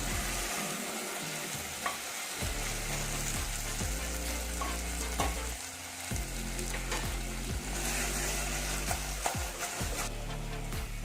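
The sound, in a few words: potatoes stirred into frying rajma curry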